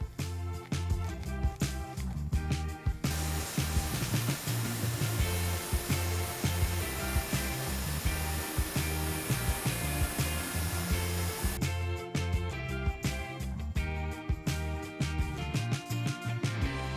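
A power buffer polishes a plastic third brake light on a Ford, giving a steady whirring drone that runs for several seconds between stretches of loud background music.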